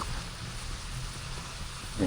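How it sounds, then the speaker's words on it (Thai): A waterfall in a landscaped Bangkok park at night gives off a faint, steady rushing hiss of falling water, with no voices over it. "มาดูน้ำตกนะครับ"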